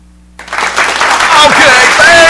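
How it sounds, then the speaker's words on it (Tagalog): A studio audience at a live television broadcast bursts into applause after a quiet start, the clapping swelling quickly into a loud, dense, sustained ovation with some voices mixed in. "palakpak naman dyan"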